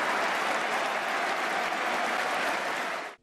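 A football stadium crowd applauds steadily during a charity match, a dense, loud wash of clapping that holds evenly for about three seconds before cutting off abruptly.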